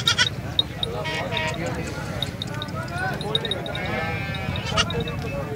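A Desi Sahiwal goat at the Shahpur Kanjra livestock market in Lahore lets out a few wavering bleats amid a busy, noisy crowd, with people talking nearby throughout.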